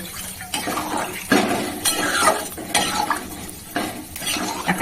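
Hot water goes into a fish curry cooked with raw jackfruit, followed by a spoon stirring and scraping in the pot, with repeated close bursts of clinking and sloshing over a soft simmer and no voices.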